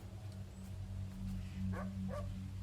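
Faint dog barks in an indie video game, two short yips near the end over a steady low background hum, with no voices.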